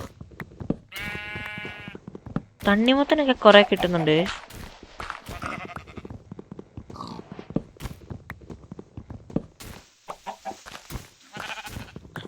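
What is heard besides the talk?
sheep and lambs bleating in the video game Minecraft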